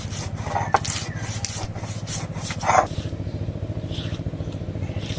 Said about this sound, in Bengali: এবার যে এইটা বেটে নেব শিলনোড়াতে কালো সরষা লবণ আর কাঁচা লঙ্কা একসঙ্গে বেটে নেব